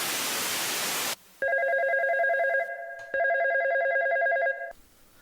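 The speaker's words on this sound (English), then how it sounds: "it's time to take a phone call" A telephone rings twice for a call-in segment on a live studio show, loud electronic warbling trills close up, following a short burst of noisy static, with a brief gap between the rings and no talking.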